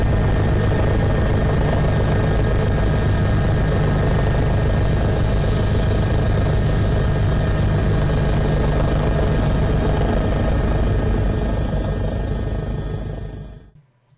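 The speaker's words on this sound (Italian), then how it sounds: "l'elicottero Drago 81 ha effettuato un sopralluogo della zona dall'alto" The Drago 81 helicopter flies overhead, its steady rotor thump and turbine whine loud and constant for the whole stretch before cutting off abruptly at the end.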